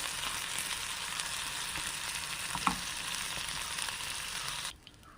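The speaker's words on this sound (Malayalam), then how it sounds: "നമ്മുടെ കരിമീൻ ഏകദേശം ഫ്രൈ ആയിട്ടുണ്ട്" Karimeen (pearl spot fish) frying in a pan gives a steady, close, dense sizzle and crackle with a small pop midway, then cuts off abruptly just before the end.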